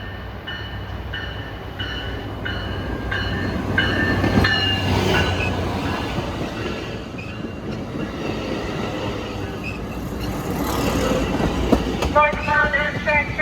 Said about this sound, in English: Santa Barbara's first commuter rail service will be pulling into the station